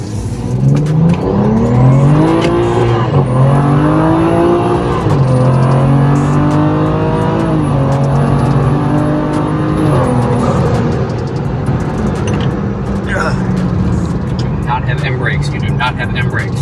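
A BMW B58 engine with a big stage 4 turbo kit revs hard through rising gear pulls, its pitch climbing and dropping with each shift, loud and close, with talking underneath.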